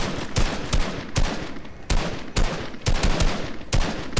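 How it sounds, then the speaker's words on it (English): Rapid bursts of gunfire in the video game Fortnite, sharp loud shots in quick clusters and short volleys separated by brief pauses, with no talk over them. "Somebody's shooting at you, Timmy."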